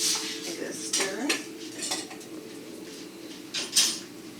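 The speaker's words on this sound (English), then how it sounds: "Give it a stir." A spoon stirs cooking quinoa in a pot, giving close scrapes and several metallic clinks against the rim, with short pauses between strokes.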